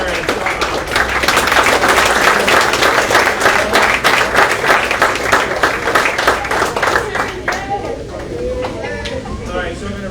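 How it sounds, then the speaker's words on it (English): Group applause for the coaches at an Aston Township Board of Commissioners meeting, a loud sustained round of crowd clapping lasting several seconds before tapering off as a voice begins talking. "I'm going to call them all out so we get a group applause for all of them."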